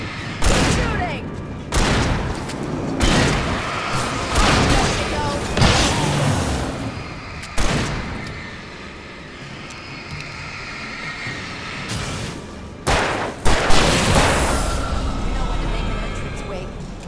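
Bursts of gunfire and booming impacts in the Alan Wake Remastered video game at a power plant, repeated loud volleys spread across the clip with voices talking over the action.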